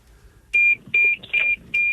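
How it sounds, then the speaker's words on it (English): Four sharp electronic beeps from a radio show alarm sound effect sound in quick, evenly spaced succession against near silence. "Oh, the idiot alarm has gone off."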